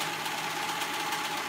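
A sewing machine stitches shoulder seams on a fabric top, a fast steady mechanical whirr with rapid needle ticks, continuous and close.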